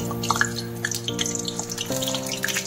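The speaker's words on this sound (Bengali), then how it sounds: "এরপর আমি তেলে এগুলোকে ফ্রাই করব।" Stuffed pointed gourds (potol) tied with string and sizzling in hot oil, a close, continuous crackle and bubbling with steady tonal hum underneath, no voices.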